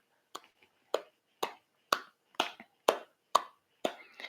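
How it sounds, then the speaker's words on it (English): Nine sharp hand claps in an even, steady rhythm during a qigong practice session, each clap close and crisp, with short silences between them and no talking. "let's clap our hands together. Do that 9 times."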